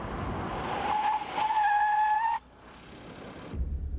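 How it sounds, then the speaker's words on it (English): A turbocharged Isuzu brakes hard from 80, its tires shrieking in a steady, high skid squeal for about a second and a half over road and engine noise, then cutting off to a quieter rumble. "When we get to 80, I'm going to hit the brakes."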